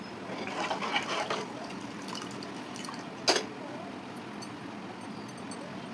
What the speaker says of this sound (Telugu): నేనైతే ఒక గ్లాస్ వాటర్ అయితే వేసుకున్నాను.